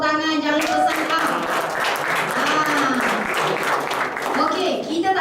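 An audience at a travel business talk breaks into steady applause, loud and sustained, with voices and chatter mixed in under and over the clapping.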